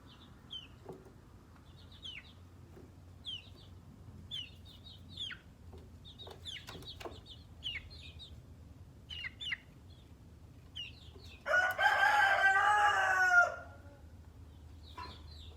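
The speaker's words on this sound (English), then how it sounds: "That's why the chickens are around me as well." Chickens cluck softly and intermittently nearby, then a rooster lets out one loud crow before the quiet clucking resumes.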